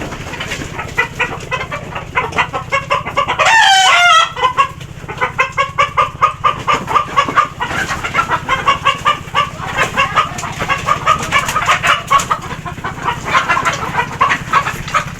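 Chickens in cages at a village quail farm cluck and chatter continuously and fairly close, with one loud, brief squawk partway through and steady background hum.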